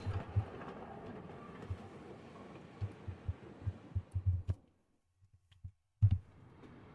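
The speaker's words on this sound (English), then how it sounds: "Sounds like a train." Rhythmic clanking thumps like train wheels rolling over rail joints in the visual novel Higurashi: When They Cry, a low uneven beat under a faint hum that fades into silence before one last heavy knock.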